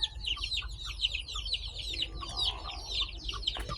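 Native chickens and chicks on a farm, a busy mix of high, rapid peeping from chicks with occasional hen clucks, steady and nearby over a low background rumble.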